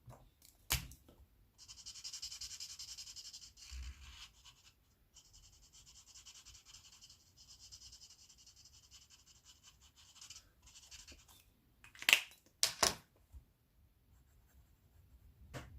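A marker pen drawing and coloring on paper: quiet, scratchy strokes, some long and continuous, others short, broken by brief pauses and a few sharper taps near the end.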